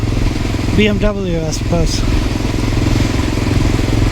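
A 1988 Honda Dominator motorcycle engine revs up toward 3,500 rpm with a rising, straining whine over a steady close idle rumble, while someone talks over it.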